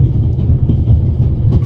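A train rolling on rails in The Raven: Legacy of a Master Thief, a loud low rumble with faint rhythmic clatter throughout, steady and close, with no speech.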